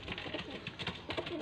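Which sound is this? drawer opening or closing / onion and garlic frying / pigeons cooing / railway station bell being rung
pigeons cooing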